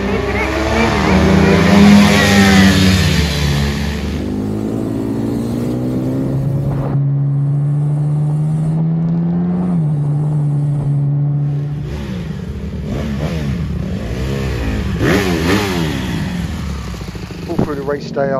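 A minibike pitbike on the circuit at Stretton revs hard as it passes, its engine note rising and falling with gear changes, loud and close at first then fading away before another bike's revving returns; a commentator talks over it.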